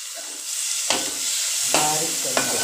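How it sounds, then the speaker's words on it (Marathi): Onion and tomato sauté in a pan with a steady sizzle, and three sharp bursts of stirring or added food briefly flare the frying noise, close and clear. "आता एक टॅमॅटो घेतला आहे तो पण ह्याच्यामध्ये चांगला परतून घ्यायचा."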